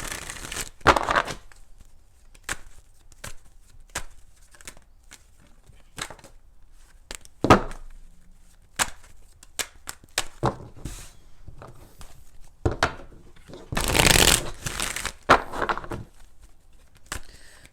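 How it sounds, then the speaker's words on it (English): Tarot cards being shuffled by hand, scattered soft riffling and crinkling bursts separated by quiet gaps, close and fairly faint, with a few louder flurries near the end. "let's go ahead and do 4 shuffles"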